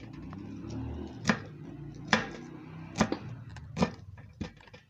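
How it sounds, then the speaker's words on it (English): Water leaf being sliced into small bits on a board gives four or five crisp, evenly spaced chops, close and distinct over a quiet kitchen background. "When you slice it like this into bits"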